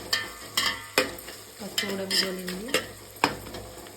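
Turmeric being stirred into food frying in a pan, a spoon scraping and knocking the pan in a steady rhythm of strokes over a constant sizzle, with a brief tonal squeak in the middle.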